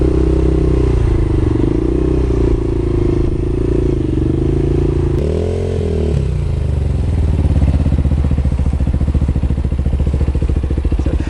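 A motorcycle rolls along at slow speed during CBT training practice, its engine holding a steady low hum with a brief dip and rise in pitch midway, close and continuous for the whole stretch.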